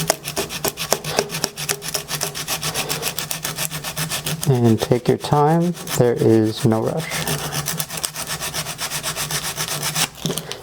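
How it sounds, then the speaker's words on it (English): Hand sanding on the bottom of a wooden fall lantern, a steady rhythmic rasping rub that runs throughout, close and fairly loud, with someone speaking briefly over it midway. "you just want to kind of do a little sanding on the bottom, that's all"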